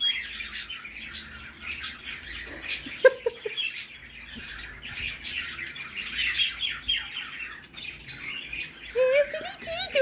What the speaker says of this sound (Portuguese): Olha, gente, que periquito mais lindo do mundo.